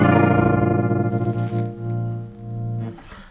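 A custom glitch tremolo guitar effects pedal chops a sustained, distorted guitar chord into a fast stuttering pulse, then settles into slower, swelling re-triggered throbs before cutting off, loud and alone.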